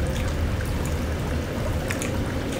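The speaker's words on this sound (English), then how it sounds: "I'm walking in the water." Steady splashing and trickling of water fills the scene as a character wades through water in the video game Sons of the Forest, loud and continuous with no voices.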